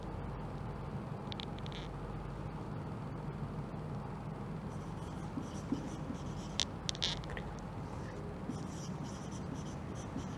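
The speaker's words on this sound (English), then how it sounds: "The main points we are writing on the board of this case study." Chalk or marker scratching on a classroom board during a lesson, a steady faint scraping texture over continuous background hum with a few sharper strokes partway through.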